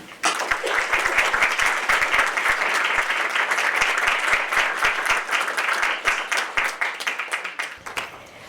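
Sustained audience applause at an evening speaking event at SIU Carbondale, dense clapping holding steady for about eight seconds before trailing off near the end.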